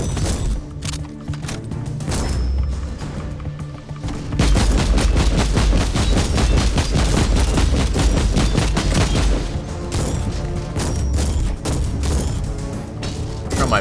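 Rapid, sustained shotgun fire in the video game Inquisitor Martyr, dense booming blasts over a constant layer of battle noise, growing louder and heavier after a short pause.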